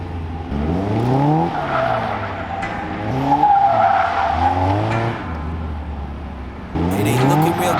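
A Caterham sports car drifts in tight circles, its tires squealing in long wavering arcs over a revving engine, loud and close, with a brief pause before the engine surges again.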